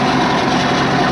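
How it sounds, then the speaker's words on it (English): Boat engines running steadily just after starting, on a shark cage diving boat launched near Cape Town, South Africa; a continuous loud low rumble with no voices. "The engines have been started."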